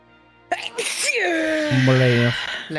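One sharp, close sneeze bursts out loudly, followed by a short voiced trailing sound.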